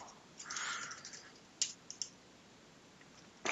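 Keys tapped on a computer keyboard in a quiet room, a short burst of soft clicks followed by a few isolated sharper keystrokes, close and alone.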